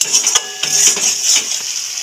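Spices are stirred and fried in a pan for a Bengali mixed vegetable dish, with a strong steady sizzle, a few sharp metal clinks from the spoon, and close scraping over about two seconds.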